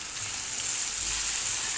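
Potatoes fry in a pan with turmeric for a home-cooked vegetable dish, a steady close hiss of sizzling oil with faint stirring underneath and no talking.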